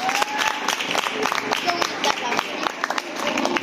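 A small group of people gives a short round of clapping at home after a child's science project, a multifunction fan, is shown. The patter is irregular, with voices mixed in.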